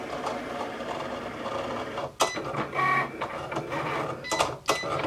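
A Cricut Explore cutting machine runs with a quiet mechanical whir, broken by a few brief louder clicks and carriage movements as it processes paper on a purple strong-grip mat.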